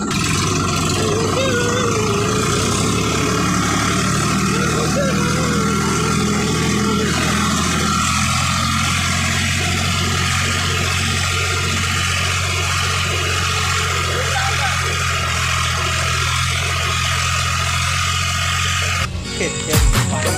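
A tractor engine runs loudly and close by in the evening, a heavy, continuous diesel drone that shifts pitch partway through as it settles, with some voices mixed faintly beneath the rumble.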